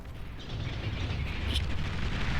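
Distant, rumbling explosions roll on continuously as bombers carpet-bomb an enemy base in the strategy game Beyond All Reason, a dense low boom with a few sharper bursts and no talk.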